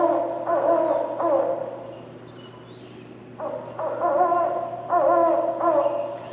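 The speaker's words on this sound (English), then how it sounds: "So that's a great horned owl." A great horned owl hooting in two separate groups of deep, soft calls with a quiet gap between them, heard alone against a faint steady background hum.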